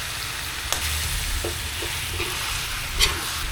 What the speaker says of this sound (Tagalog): Ngayon yung nahalu-haluin kasi mamaya hindi na pwede itong haluin masyado kasi malambot na yung karne